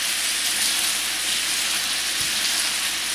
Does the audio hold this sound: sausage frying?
yes